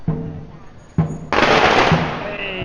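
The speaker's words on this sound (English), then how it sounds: "Hey, fireworks going off over there." Fireworks pop and crackle at a distance over an outdoor street scene near a dragon boat gathering in China, two sharp bursts followed by a sustained hissing crackle.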